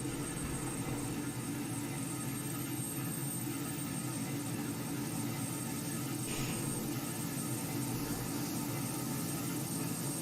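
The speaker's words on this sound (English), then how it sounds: "There we go. Engine start. And engine RPMs is over here. So it's spooling up." Steady, even jet engine drone from an aircraft spooling up in Microsoft Flight Simulator 2020, a constant broadband roar with no talk over it.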